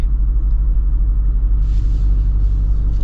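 A Jeep Wrangler Rubicon 392 with an AEV kit and a V8 engine gives a deep, loud, steady rumble while driving, heard close from inside the cabin.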